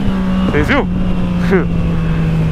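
A Yamaha MT-09 motorcycle engine idles steadily, then revs up in two quick throttle blips before settling back, heard close up with a voice speaking briefly over it.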